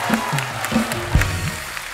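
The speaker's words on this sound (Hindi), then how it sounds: "एक बार इनके लिए जोरदार तालियां" Studio audience applauding on a Hindi comedy talk show, a loud burst of clapping and crowd noise over a low musical bed, steady throughout.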